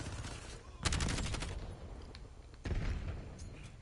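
Gunfire in the Black Ops 6 video game comes as two loud bursts of rapid shots, with a fainter steady background of game noise between them.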